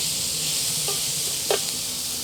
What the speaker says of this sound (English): We'll cook that down until them onions get soft.